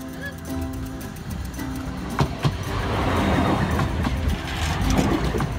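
A train passes near London as a low rumble swells into a sustained broadband roar over several seconds, with a sharp clank or two early on.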